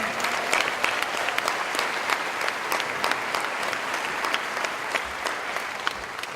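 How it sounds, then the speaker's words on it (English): A crowd applauds at the 2019 Harriton High School graduation ceremony, with dense, sustained clapping and a few sharper claps standing out, steady from start to finish. "let's give another round of applause"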